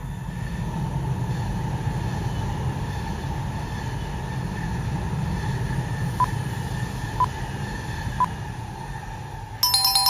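Tohoku Shinkansen Yamabiko high-speed train arriving, a steady low rumble and rushing hiss with a few brief tonal pings and a bright chime near the end, no voices.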